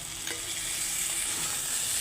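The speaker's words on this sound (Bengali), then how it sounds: "তো আদা রসুন বড়াটাকেও আমি ভালো করে ভেজে নেব" Ginger garlic paste fries in a pan of hot oil after potatoes, brinjal and pointed gourd, a loud, close, steady sizzle with light stirring scrapes and no talk.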